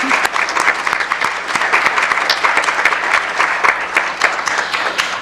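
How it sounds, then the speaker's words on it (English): At a League of Women Voters candidate forum in Butte County, the audience breaks into loud, steady applause, a dense patter of many hands with a few sharp individual claps, sustained throughout. "Now you may applaud."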